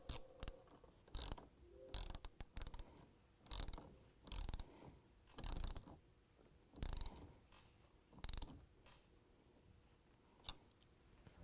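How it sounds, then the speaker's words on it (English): A 10mm ratchet tightens the negative battery terminal on a 2014 Ram 5.7 V8: short bursts of rapid clicking pawl ratcheting, about ten strokes with brief pauses, close and fairly quiet. "we can use our 10mm to tighten it back up"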